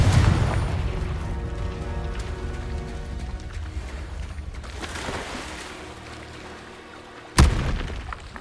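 Fiery blast spells booming in the Hogwarts Legacy video game: a heavy opening impact that rumbles and rings out, a softer burst midway, then a sharp, loud explosive crack near the end.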